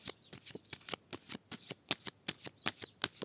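Tarot cards riffled and shuffled by hand in a rapid series of crisp, papery bursts, about a dozen close-up flutters in a steady rhythm with no talking.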